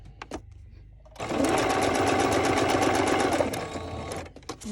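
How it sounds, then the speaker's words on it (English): Close and loud, a sewing machine stitches stamped fabric and paper in one continuous run of about three seconds, framed by brief handling knocks before and after. "So I'm going to do the stitching next to it so you can see."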